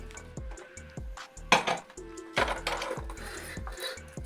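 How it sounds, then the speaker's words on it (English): The metal pan stand of a gas cooker is lifted out of its box, with clanks and rattling metal knocks at close range over a low, steady background hum. "So we remove the metal stand from the box."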